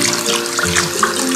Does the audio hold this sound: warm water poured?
yes